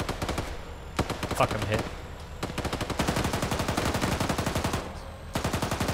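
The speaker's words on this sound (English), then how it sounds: "even with the machine gun, I can't hit any of these guys" Rapid bursts of machine gun fire rattle in a military shooter game, loud close volleys broken by short pauses, with a voice cursing over the gunfire.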